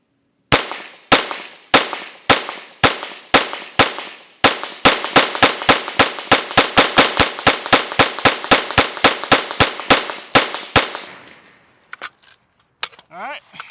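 Rifle fire from a BCM barrel during test shooting, a string of loud close sharp shots, spaced at first then coming faster and evenly for about ten seconds before stopping, with brief metallic clatter after.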